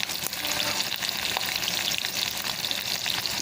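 Onions fry in hot mustard oil after mustard seeds have spluttered, a dense, close, continuous sizzle over a few seconds with faint stirring.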